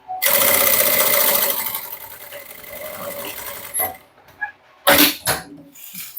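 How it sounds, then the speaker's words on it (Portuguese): Sewing machine running a straight seam on a mini bucket bag, a steady close whirring burst that starts and ends with short backstitch runs, followed by a few brief clicks and taps. "Costura simples, básica aqui, costurinha reta, tá? Começo e finalizo com retrocesso."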